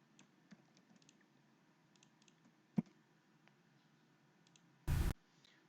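A few scattered computer keyboard keystrokes entered while searching for a product title, quiet and close, with one louder burst of clatter near the end and no voices.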